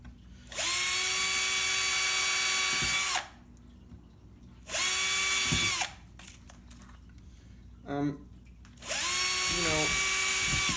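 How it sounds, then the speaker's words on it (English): An electric drill whirs loudly in three long high-pitched bursts of a few seconds each, with quieter clattering and handling noises in the pauses. "Use your drills safely"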